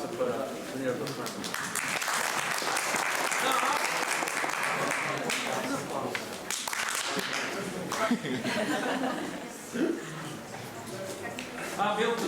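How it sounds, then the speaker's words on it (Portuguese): Audience at an international ethnomathematics conference plenary applauding at length, a broad sustained wash of clapping with some chuckles and voices mixed in, fairly faint and roomy. "Mais um aplauso para o senhor doutor."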